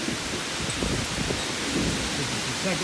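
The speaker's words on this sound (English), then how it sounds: "It's raining so hard." Heavy rain pours down in a dense, steady roar during a thunderstorm on West State Street in Fort Wayne, constant and close throughout.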